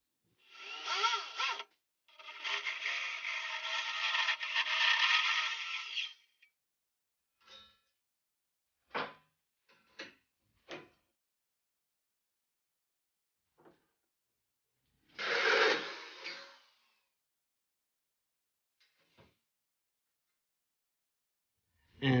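Metal holes being cut with a power tool for a Mercedes W203 project car's M104 inline-six intake manifold build: two long loud bursts and one later burst, separated by short sharp knocks and taps.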